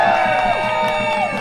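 Cheering and applause from a rally crowd supporting Rutgers University workers, with whoops and shouts blending into a dense, steady roar that holds loud throughout.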